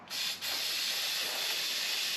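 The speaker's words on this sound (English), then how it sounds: "I'm going to go ahead and spray this seal right here with some cleaner" Aerosol cleaner sprayed onto a seal on a 2024 Honda CRF110F motorcycle, a close, steady hissing spray lasting about two seconds with a brief dip near the start.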